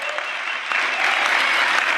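Sustained audience applause at a conservative marriage event, a dense, steady wash of many hands clapping that swells slightly toward the end, with no voices over it.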